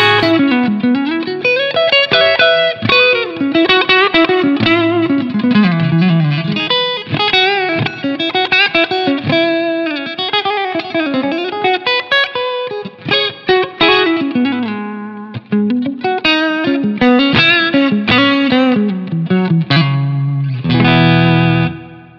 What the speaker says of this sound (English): you'll hear the reverb longer.